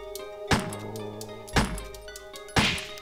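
Gunshots aimed at a zombie in Resident Evil Director's Cut: three sharp, evenly spaced shots about a second apart, each with a brief ring-out over a low game hum.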